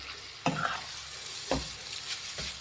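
Mango shavige bath being stirred in a pan on low flame, with cooked vermicelli and a little coriander leaf mixed in; three distinct spatula scrapes sound at intervals over a steady, faint sizzle, close and with no talk.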